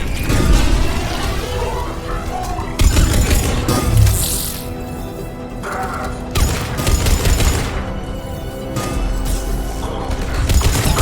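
Gunfire in the Mass Effect 3 video game, dense and continuous through the whole stretch, with sharp crashing bursts and booms over a busy battle mix.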